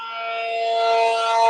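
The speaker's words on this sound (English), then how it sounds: "Tornado sirens are going off, guys." A tornado siren wails in a steady, rising mechanical tone during a routine weekly test, loud and sustained throughout with no speech.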